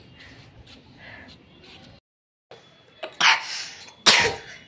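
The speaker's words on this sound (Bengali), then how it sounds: "যেমন কাশছে এখন তেমন ঠান্ডা লাগছে" A child coughs in two sharp, loud bursts near the end, after a stretch of quieter background sound and a brief silence.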